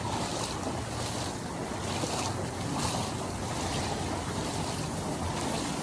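Heavy rain pours onto a flooded street in Chiang Mai, a dense, loud hiss with surging wash and wind-like rush filling the whole stretch without pause.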